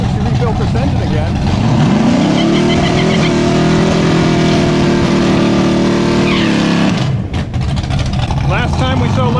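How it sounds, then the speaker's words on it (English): A Mercury Cougar drag car with a freshly rebuilt engine does a burnout at a drag strip, its engine roaring loud and steady at high revs for several seconds before dropping off, with people talking over it. "here goes Larry's first burnout since he rebuilt this engine again."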